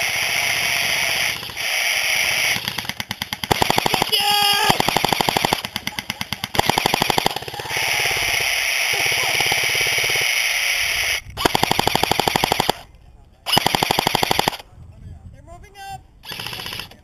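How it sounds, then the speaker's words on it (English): Airsoft guns fire in long rapid bursts during an outdoor skirmish, loud close rattling volleys broken by short pauses, with players shouting to each other over the shooting. "That's why you don't stop firing, Matt. You never stop firing."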